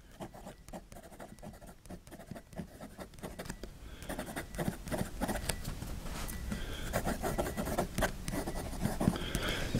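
A fountain pen with a standard nib scratching across paper in quick, irregular strokes, close and continuous, growing busier and louder in the second half.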